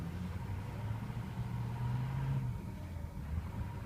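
A 2006 Ford F350 truck creeping backward in reverse with four-wheel drive in 4 low, a quiet steady engine hum with a low drone that rises slightly midway, heard from inside the cab.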